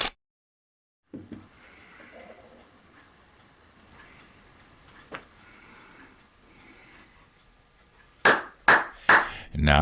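Three sharp hand claps sound close and loud in quick succession near the end, following a quiet stretch of faint room noise in a model ship workshop.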